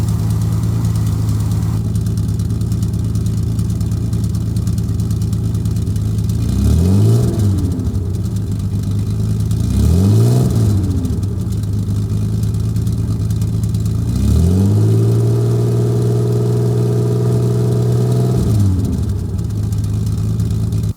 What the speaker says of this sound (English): I was revving at about 2500 RPM.